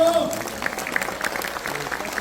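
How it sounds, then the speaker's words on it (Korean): An audience at a Korean local election campaign gathering applauds, a dense burst of clapping that fills the whole moment with a voice faintly underneath. "함께 하신 여러분들에게 큰 박수 한번 보내주셨으면 좋겠습니다"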